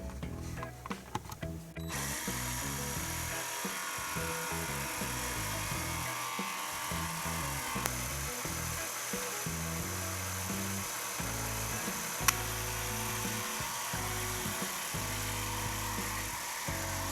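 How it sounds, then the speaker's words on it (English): A jigsaw cuts out a carved wooden chair piece, a steady buzzing motor drone with reciprocating chatter running continuously at moderate volume, with a couple of faint ticks along the way. "Now I'm just going to jigsaw it away."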